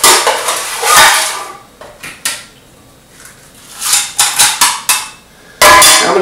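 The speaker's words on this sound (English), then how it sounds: "Add some more ice." Ice goes into a mint julep cup, loud clinking and clattering at the start, then a series of sharp cubes knocking against metal one after another, and a final burst of rattling ice.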